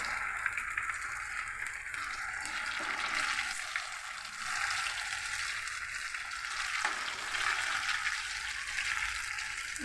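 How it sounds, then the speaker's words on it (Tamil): Suyam sweet pieces sizzle and bubble steadily in hot oil with a continuous crackling hiss, occasionally stirred, with no voices. "இது லைட்டாக பொரிஞ்சாலே போதும்"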